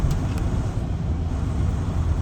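Low, steady engine rumble from a truck idling or creeping at the Port of Long Beach WBCT container terminal, continuous and fairly loud throughout with no talk.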